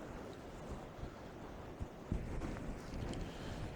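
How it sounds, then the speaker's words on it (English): Steady, heavy wind roars across the microphone with low rumbling gusts, a broad continuous blustery noise outdoors on the coast near Brixham in winter. "it doesn't seem to be getting any less windy"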